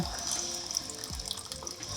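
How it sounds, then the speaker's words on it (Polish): Murky water drains from a central heating radiator, a continuous splashing trickle that holds steady throughout with no voices. "Więc teraz zrzucę sobie całą wodę i tak z każdego grzejnika"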